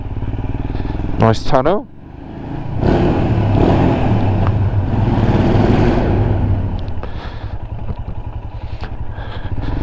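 A Royal Enfield Himalayan motorcycle riding down narrow country lanes, its engine a loud, steady close drone after a brief passing whoosh, with the rider talking over it.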